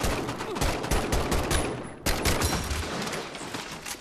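Rapid bursts of M1 Garand rifle fire in a Medal of Honor VR shooter, sharp shots crackling one after another in near-continuous volleys with a brief break midway.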